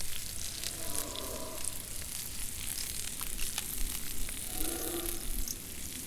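Meat sizzles in a pan within DayZ, the pork crackling steadily and fairly loud, with faint swells of a background tone rising and falling behind the constant frying hiss.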